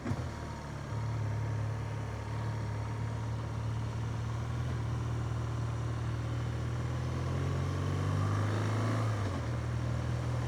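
A 2025 BMW R12GS motorcycle pulls steadily on the road, its engine hum continuous and close, with a short dip in pitch and level near the end as a gear is shifted.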